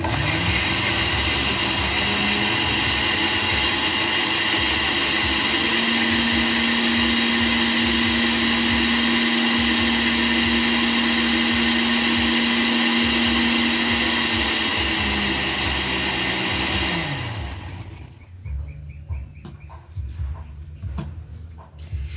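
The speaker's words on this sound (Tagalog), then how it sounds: "So, ibe-blender natin." An electric blender blending aloe vera whirs loudly and steadily for about seventeen seconds, its motor pitch shifting slightly, then winds down and stops, leaving quiet room noise.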